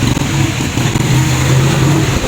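Motorcycle engine running steadily with a low droning hum on a steep, rough mountain road, continuous and close throughout with no talk.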